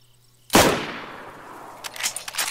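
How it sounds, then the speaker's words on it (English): In DayZ, a single loud, close gunshot cracks out of near silence and rings off in a long decaying echo, followed by a few fainter distant pops. "Who the fuck just shot that?"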